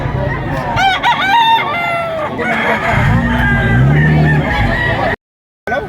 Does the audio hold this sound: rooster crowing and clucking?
yes